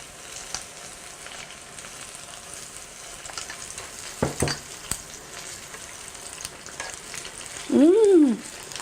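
Banana pieces frying in oil for candied fried banana make a low, steady sizzle, broken by a few sharp clicks midway and a short, rising tonal sound near the end.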